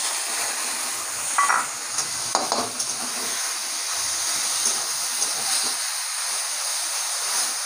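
Fresh chickpea greens go into a pan with eggplant, where they meet a soft, steady sizzle and hiss. A few light clinks of stirring come through early on.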